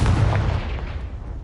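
A Confringo fire spell blasting in Hogwarts Legacy, a loud booming burst with a rumbling low-end tail that slowly fades over about a second and a half, heard alone without voices.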